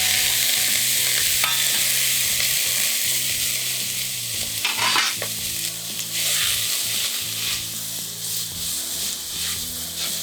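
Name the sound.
shrimp shells being stir-fried in a pot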